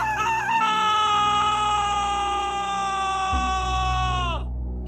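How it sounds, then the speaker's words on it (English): A ragged human scream rings out in a hallway as someone is choked by fire, a sustained, strained high-pitched wail that holds steady for several seconds before abruptly cutting off, loud and close. "And that's when he heard it again. The scream, from the hallway outside."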